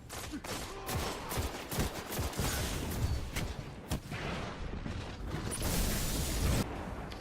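Scout rifle fire in the video game Destiny during a match: measured single shots at a slow, timed cadence, loud and close, with other game effects and mechanical clatter mixed in.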